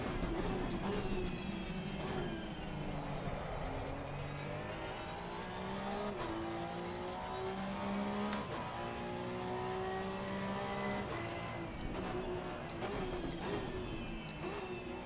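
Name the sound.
Porsche race car engine in Assetto Corsa Competizione video game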